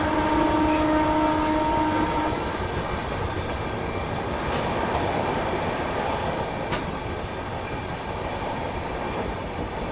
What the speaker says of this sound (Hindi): तिलक ब्रिज पहुँचते पहुँचते अच्छी खासी रफ्तार पकड़ ली अपनी ट्रेन ने।